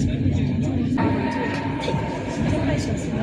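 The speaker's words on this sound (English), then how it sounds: "Here we're inside the Flåm Railway and we're just getting ready to depart." Interior of a Flåm Railway train carriage preparing to depart, with a steady low rumble and hum running throughout and faint talk over it.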